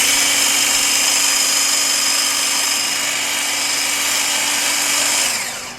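A Kelitos blender on its turbo setting mixes sugar into a liquid, a steady high-pitched motor whine running loud and continuous before winding down at the end.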